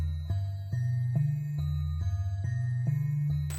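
Gjarnold's altered horror-mode voice from the Sprunki game: a steady, low tonal pattern repeating in short rhythmic steps with a faint tinkling edge, looping evenly for a few seconds with no talking.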